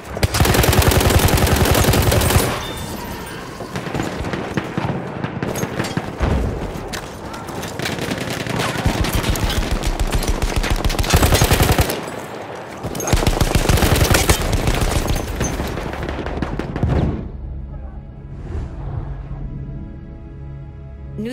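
Hellriegel submachine gun fire in Battlefield 1: loud, sustained rapid-fire bursts, broken by short pauses, running through most of the passage before tapering to quieter battlefield noise at the end.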